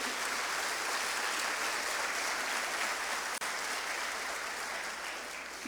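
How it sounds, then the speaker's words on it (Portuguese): Worshippers in a church clap loudly during a sermon, a dense, unbroken roar of applause from a large congregation, sustained at steady volume with one brief dip. "Aplauda forte a Ele."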